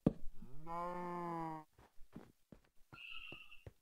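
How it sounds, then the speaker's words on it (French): A free-range cow in a video game gives a long, deep moo, loud and near, followed by a few soft thuds and a brief higher-pitched bleating call. "Ah, ça, de la bonne vache élevée en plein air, hein."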